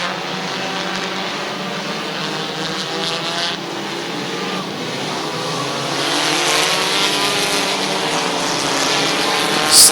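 Race cars roar around Midvale Speedway in a close side-by-side battle for the lead, a loud sustained engine wail with passing surges that grows somewhat louder toward the end.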